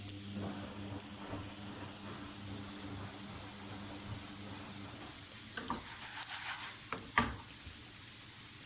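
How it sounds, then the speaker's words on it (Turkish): Grated potato rösti frying in a pan over raised heat, the lid off, giving a steady low sizzle with soft crackles and a few sharper pops toward the end, no voices. "Sadece altını kızartıyorum şu an."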